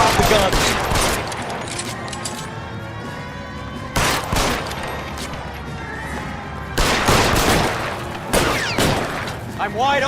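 Rapid bursts of gunfire rattle out in the L.A. Noire video game, with three dense volleys of shots arriving about every three to four seconds and a steady background hum between them.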